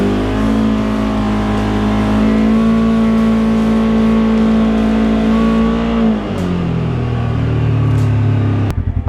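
Polaris Xpedition side-by-side engine fitted with a Trinity exhaust, heard from inside the cockpit: a loud, steady droning rev that holds for about six seconds, then drops in pitch to a lower idle-like rumble before a brief clatter at the end.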